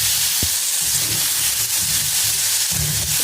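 Green chilies and raw mango frying in a pan for thecha, a steady close, loud sizzle throughout with faint stirring scrapes.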